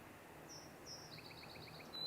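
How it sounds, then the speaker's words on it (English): A small songbird at Sargeant Bay Provincial Park in early May gives a few thin, high chirps, then a quick run of repeated notes, faint and distant over quiet outdoor ambience. "I hear that, I hear something, a little chirp"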